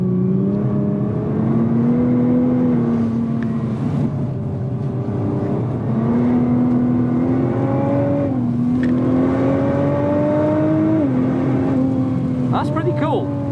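A 2017 Nissan GT-R's engine drones loudly on a wet lap of Spa-Francorchamps, repeatedly rising in pitch through the gears and dropping at each shift, with road and spray noise underneath and a driver talking over it.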